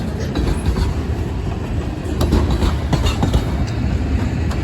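ELS 503, 1221 and 502 locomotives move a train through a log yard in Beecher, Wisconsin, a loud continuous rumble with rhythmic wheel clatter and clanks, heard up close without talk.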